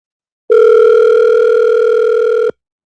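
A single steady ringback tone on an unanswered phone call, loud and clear for about two seconds with sharp onset and cutoff, no voices.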